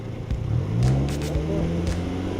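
A Fiat Abarth 500 with a 160-horsepower 1.4-liter turbocharged four-cylinder accelerates on an autocross course, its engine note rising in a short, strained surge before settling into a steady drone, close and moderately loud.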